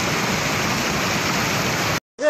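Floodwater rushes across a blocked road in Balochistan, Pakistan, a loud, dense, unbroken roar of churning water close by that cuts off abruptly near the end.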